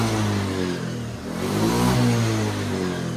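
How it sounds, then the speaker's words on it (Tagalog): A misfiring Honda Beat scooter engine, its EOT sensor removed, runs loud and close, dipping briefly and then revving up to a steady higher hum. "Kung mapapansin nyo, ayan, napakaganda na ng kanyang RPM."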